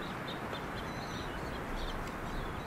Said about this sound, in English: They come across some birds. We can live mix in those birds.